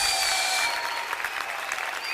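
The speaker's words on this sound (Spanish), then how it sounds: "Te aplaudimos a ti, Jesús." A church congregation claps steadily during a Spanish-language praise service, a dense, even patter of many hands that stays loud for the whole stretch, with faint sung or musical tones beneath.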